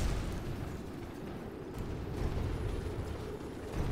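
Kerbal Space Program spacecraft re-entering the atmosphere, a steady low roaring rumble with crackling bursts throughout, loud and continuous with no talk.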